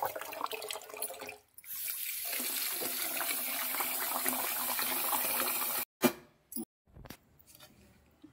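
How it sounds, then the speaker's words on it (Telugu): Water runs and splashes steadily into a vessel holding foxtail millet for washing, then stops abruptly, followed by a few brief sloshing and clattering noises. "ఇప్పుడు వాటర్ వేసుకొని ఇప్పుడు మనము ఒక్కసారి కడుక్కొని నానబెట్టుకుందాం"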